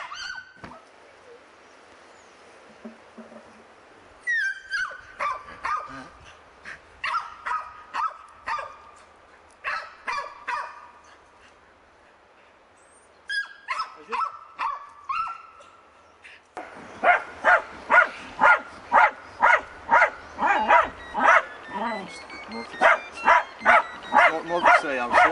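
An earth dog barks underground in an artificial den during a working test on raccoon dog and fox. Muffled bursts of barking come first, then a long, loud, steady run of rhythmic barks.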